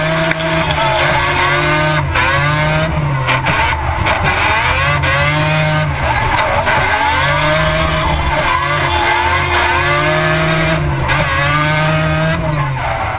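Drift cars in a grand final battle at Taupo, including the Red Bull RX-7, scream past with loud, sustained tire squeal and high revving engines, pitch rising and falling as the cars swing through corners.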